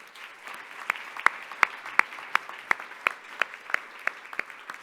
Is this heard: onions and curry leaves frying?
no